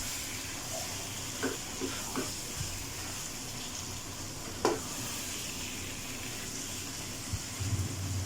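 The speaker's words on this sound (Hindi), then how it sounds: "पहले चिकन को फ्राई कर लेंगे इसमें" Chicken fries in a karahi pan with a steady, low sizzle, while occasional soft clinks and stirring knocks sound close by and no one speaks.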